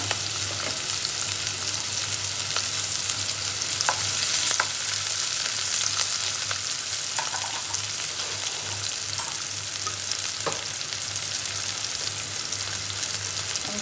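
Sliced onions with salt sizzle in a pan, the start of a potato, eggplant and fish curry. The frying hiss is steady and close, with occasional faint stirring clicks and no talking.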